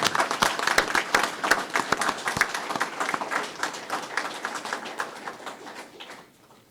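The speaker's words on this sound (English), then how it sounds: "Round of applause." A crowd at a 9/11 firefighter award ceremony applauds medal recipients, sharp individual claps standing out at first within a sparse, uneven patter that gradually thins and fades toward the end.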